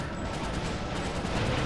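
Rapid gunfire from the Ratchet Deadlocked video game, a dense, loud burst of overlapping shots that runs without a break for the whole short stretch.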